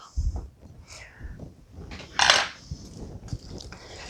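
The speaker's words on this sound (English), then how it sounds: "I'm going to get my whisk to do this job." Whisk worked through butter and liquefied mashed potatoes in a bowl: quiet, scattered metallic clinks and taps with one brief, brighter scraping swish midway, close by and without talk.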